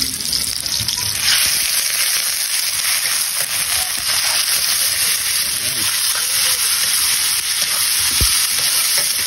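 Squid and onion sizzle loudly in a hot frying pan, a dense, steady crackle that runs throughout and sits close, with occasional stirring clatter and a voice speaking over it now and then.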